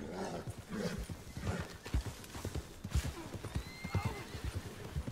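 A horse gallops in Red Dead Redemption 2 during a multiplayer battle for Valentine, its hooves pounding in a quick, steady clip-clop with a brief whinny, close and prominent over faint game ambience.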